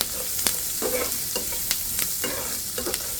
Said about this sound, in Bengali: এখানে আমি 4টা রসুনটা হালকা করে একটু ভেজে নিচ্ছি।